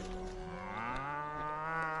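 A cow lets out a long, loud moo with a rising then steady pitch in the video game Destroy All Humans, heard close and alone for about two seconds.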